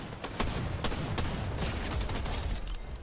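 Gunfire in the Fortnite video game, a squads match: a dense, continuous run of shots with several sharper cracks standing out, steady and fairly close, no talk over it.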